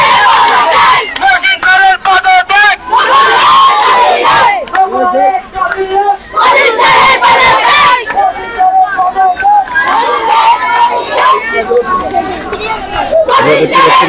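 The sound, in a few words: students chanting slogans at a protest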